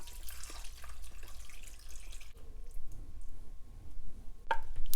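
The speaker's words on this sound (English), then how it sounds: "I'm gonna add broth through a strainer" Broth poured through a strainer into a bowl of pork udon soup, with a close, steady trickle and splash of liquid running for several seconds and a light clink near the end.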